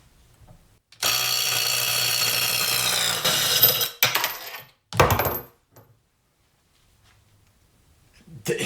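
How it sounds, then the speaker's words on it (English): A Harbor Freight Hercules impact wrench breaks loose a bolt torqued to 162 foot-pounds, with a loud, buzzing hammering burst of about two seconds, then a few short sharp bursts before it falls quiet. "So the Hercules tore through 162 foot-pounds."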